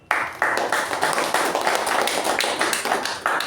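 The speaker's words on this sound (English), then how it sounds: "I would like to first give a round of applause for all you guys" Applause fills a Toastmasters meeting room, a dense, continuous clapping from a group of members, fairly close and loud, with no speech on top.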